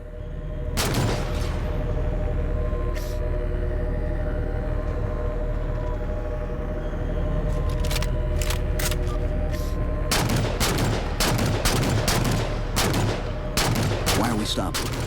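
Gunfire from the video game Halo 4, with a loud scattered volley near the start and dense rapid bursts of shots toward the end, over a steady low rumble of vehicle and game noise.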